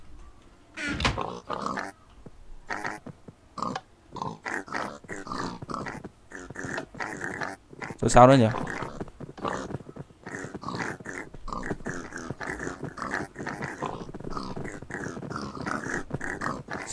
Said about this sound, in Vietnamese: À, sinh ra lợn nào.